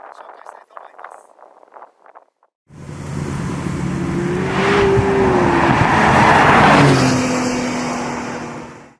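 A 2025 McLaren Artura sports car driving on a winding road: after a few seconds of quiet voice, a loud, close engine note swells and climbs steadily in pitch, then holds strong to the end.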